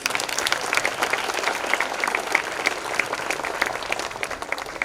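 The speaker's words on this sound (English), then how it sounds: "Let's have a loud round of applause for these students." Loud, dense applause from a school audience for student performers at a fest, a steady wash of many hands clapping with scattered sharper claps throughout.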